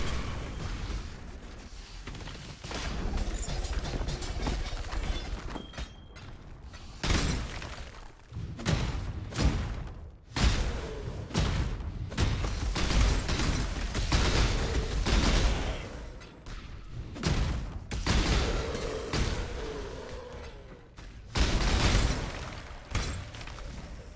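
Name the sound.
explosions in the video game Path of Exile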